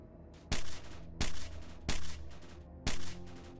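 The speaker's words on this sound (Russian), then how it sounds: "Там опять какая-то стрельба непонятная" Gunfire in the STALKER video game, set in Pripyat: four loud, sharp single shots spaced roughly evenly over a steady background rumble, with no voices.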